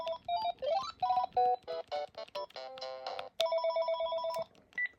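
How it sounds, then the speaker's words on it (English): Panasonic KX-TG6524 cordless phone cycling through its built-in ringtones, a run of short electronic melodic tones and chirping patterns with brief gaps between them, clear and close. "And the ringtones we all know and love from this series."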